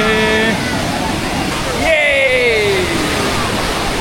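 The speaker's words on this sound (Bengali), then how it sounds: "দেখুন ঢেউগুলো আসছে" Sea waves break and wash up on the beach at Puri as a loud, rushing roar, with people's voices calling out over the surf.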